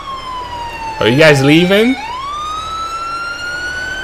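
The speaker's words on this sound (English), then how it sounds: "Can y'all turn off your siren at least?" Emergency vehicle siren in the video game GTA IV, a steady wailing tone that runs through the whole stretch while someone speaks briefly over it partway through.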